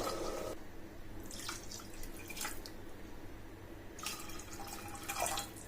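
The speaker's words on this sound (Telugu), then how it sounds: "నేను ఇక్కడ మొత్తం 4 కప్పుల వరకు అయితే నీళ్ళు వేసుకున్నాను." Water is poured in short splashing bursts into a pot nearby, with quieter gaps and gurgles between pours.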